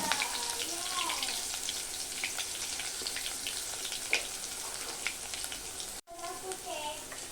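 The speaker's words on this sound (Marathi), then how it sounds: "आता तेल आपलं गरम झालेलं आहे, त्याच्यामध्ये आपण आलं आणि लसूण टाकून घेणार।" Ginger and garlic hit hot oil in a pan for a Marathi-style prawn curry, giving a steady close sizzle with small crackles and stirring scrapes, and a brief break near the end.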